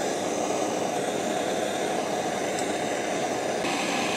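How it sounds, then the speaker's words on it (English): A propane torch heating the fuel reservoir of a gas engine fitted with a vegetable oil vapor carburetor: a steady, loud, broadband roaring hiss that continues unbroken, with no voices. "So I've got a propane torch for the preheating phase."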